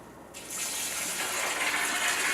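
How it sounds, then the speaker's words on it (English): Water gushes steadily into a pot of beans being readied for pressure canning, a continuous close pour that starts abruptly and keeps a full, even splash. "I'm going to have to add back some water."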